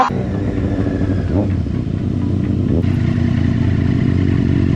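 Loud stock demo motorcycle with a restricted exhaust, its engine rumbling steadily close by and briefly revving up, over road noise.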